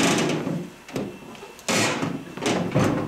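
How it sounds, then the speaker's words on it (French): A microwave oven door is forced and broken in a few separate heavy bursts, each a loud, sharp crack and clatter with brief pauses between. "Pour la scène du micro-ondes, je vais casser la porte."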